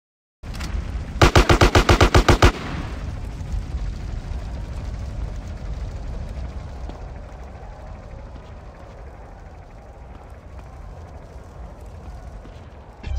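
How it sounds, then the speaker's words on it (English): AK rifle fire in GTA San Andreas, a short rapid burst of loud shots early on, followed by a long steady bed of game ambience and mechanical noise with no talk. "you just got to keep your distance and use the AK's firepower"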